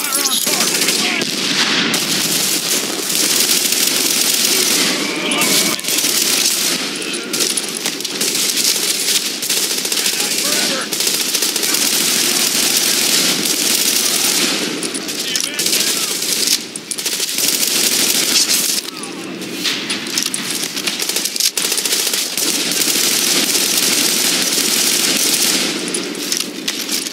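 Loud, continuous automatic gunfire from Tom Clancy's The Division, with dense rapid bursts running almost unbroken and brief dips between volleys.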